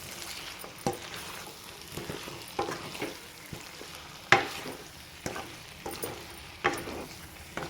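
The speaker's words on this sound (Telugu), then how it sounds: "మొత్తం హైలోనే పెట్టుకొని బాగా కలుపుకోండి" Chicken kaju fry with green chillies, curry leaves and coriander stirred in a pan on high heat: steady close frying sizzle with periodic spoon scrapes and clinks against the pan.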